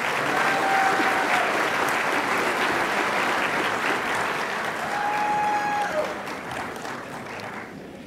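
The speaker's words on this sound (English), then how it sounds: "Let's give a round of applause for our 25-year awardees." Sustained audience applause at a 2018 university employee awards program honouring 25-year awardees, a steady, full roar of clapping from a large room that slowly tapers off.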